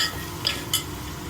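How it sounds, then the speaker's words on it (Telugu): Beaten egg is mixed into frying egg fried rice, with a steady low sizzle and two brief scraping clinks of a spatula against the pan. "ఇప్పుడు ఈ ఎగ్ కొట్టి పెట్టాం కదా, అదన్నీ ఇందులో వేసి బాగా కలిపేసుకోవాలి"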